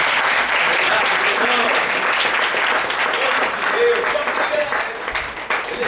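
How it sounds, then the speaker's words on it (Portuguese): Church congregation at a Sunday service applauding, a dense, loud, steady wash of clapping that fills the whole stretch, with voices and cheers mixed in. "Vamos aplaudir o Senhor."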